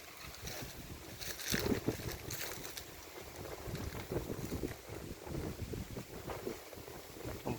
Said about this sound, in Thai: ลมหนาวมันมาโอ้โห ดูลม ลม ลมหนาวหรือพายุ